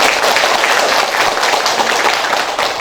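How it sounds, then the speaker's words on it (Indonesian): Audience applause for volunteer partners at a regional assembly of a blind people's association, a dense, steady wash of many hands clapping, loud and close, with no talk. "Boleh tepuk tangan lagi dong buat para mitra bakti kita."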